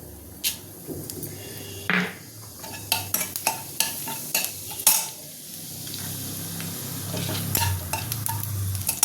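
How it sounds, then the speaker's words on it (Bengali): Bay leaf and whole cumin hit hot oil in a pan left from frying potatoes, giving a soft continuous sizzle under sharp clinks and scrapes of a spoon against the pan, close by and with no talking. "এর মধ্যে আমি ফোড়ন দিয়ে দেবো তেজপাতাটা আর জিরেটা গোটা জিরেটা"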